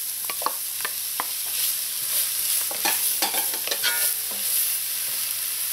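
Carrot and pumpkin sizzle with browned garlic in a pot, a soft, steady fry broken by repeated scraping clicks and knocks of a spoon stirring against the pot. No talking.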